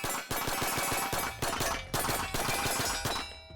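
A gun empties a full magazine of Outlier 124 ammunition in rapid, loud bursts, with short breaks between strings of close, rhythmic shots.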